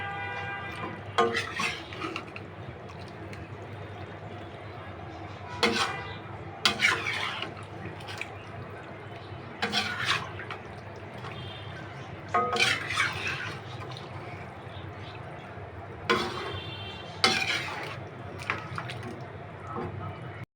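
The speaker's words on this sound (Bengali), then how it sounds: "এখন আমি নেড়ে চেড়ে দিব এবং গ্যাসটাও চালিয়ে দিব।" A spoon scrapes and clatters in a pan of Chinese-style stir-fry on a gas stove, in short bursts of stirring every few seconds over a steady background hiss.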